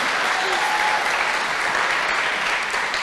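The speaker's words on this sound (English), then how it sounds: "I think they deserve a round of applause." An audience at a Queerstories storytelling event at the QAGOMA gallery applauds Auslan sign-language interpreters with a steady, dense wash of clapping that holds evenly for the whole stretch, with a voice faintly underneath.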